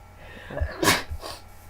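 A single sharp sneeze bursts out close by, preceded by a quick inhale and followed by a softer sniffing exhale.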